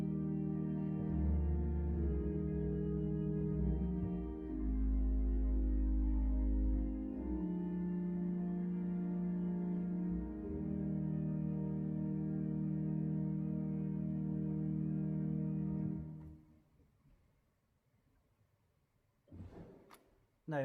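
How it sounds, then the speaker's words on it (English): Quiet flute and string stops on the pipe organ at Bellshill Central Parish Church, soft sustained chords changing slowly for about sixteen seconds before releasing, followed by a few faint mechanical clicks. "Quieter sound, using this flute and our string stops,"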